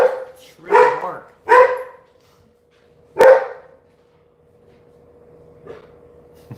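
Dogs barking indoors, a few loud separate woofs early on, then one sharp bark and a faint distant one after a pause, with quiet stretches between.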